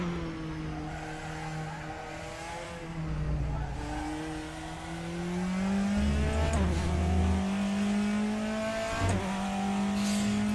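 A race car laps a track in the RaceRoom racing game. The engine drones steadily and climbs through revs, with gear changes and brief tire squeals through the corners.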